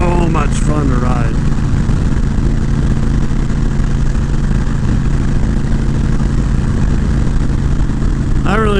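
Honda Fury cruiser motorcycle riding through sand hills in western Nebraska, a loud continuous engine drone with heavy wind rush, close and steady, with someone talking briefly at the start and end.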